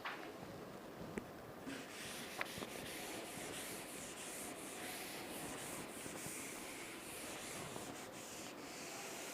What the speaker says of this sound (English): I will rub the board